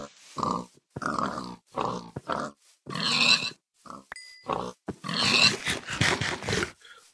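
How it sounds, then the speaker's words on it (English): A pig in Minecraft gives a series of short, close grunts and snorts in quick succession, several separate calls with brief pauses between them, clear and alone. "Pig under it."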